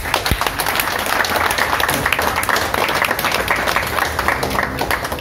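An audience applauding after a poetry reading at an Indonesian stage event, dense sustained clapping from a crowd that runs steadily throughout, with a little background voice.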